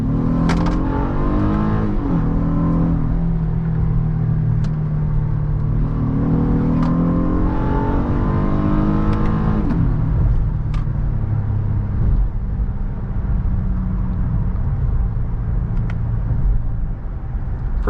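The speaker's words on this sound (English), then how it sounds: "I'm gonna punch it here." A 2023 Honda Passport Elite SUV accelerating hard in sport mode, its engine note climbing in pitch through held gears with loud, sustained revving and brief drops at shifts, heard from inside the cabin without talk.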